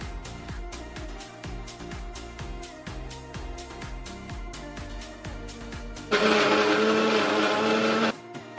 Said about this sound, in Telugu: మొత్తం మిక్సర్ జార్లో వేసుకొని గ్రైండ్ చేసేసుకుందాం